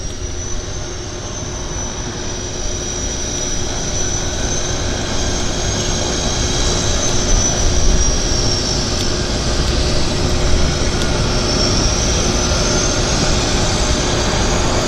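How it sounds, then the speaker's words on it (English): A Twin Otter floatplane taxis out across Vancouver Harbour, its turboprop engines giving a steady, fairly loud droning roar with a high whine on top that swells and eases slightly over the whole stretch. "a twin otter is coming out, taxiing out"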